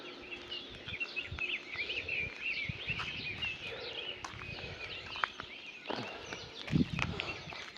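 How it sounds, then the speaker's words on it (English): Birds chirping outdoors in the morning, a steady layer of faint high calls and tweets from several birds, with a few low thumps and rustles close by. "you can hear the voices of the birds chirping"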